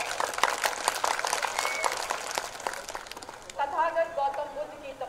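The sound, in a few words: loud applause welcoming the chief minister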